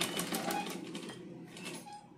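A sewing machine stitching a churidar, a fast steady clatter of the needle running close and fairly quiet, then easing off near the end, no voices.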